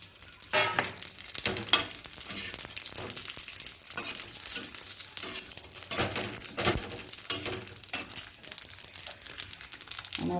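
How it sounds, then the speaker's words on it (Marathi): Cloves and black pepper pop and crackle in hot oil while a Maharashtrian chicken curry is being cooked, giving a steady close-up sizzle with irregular sharp spattering bursts throughout. "लवंग उडून दिली मिरी लवंग उडते ना"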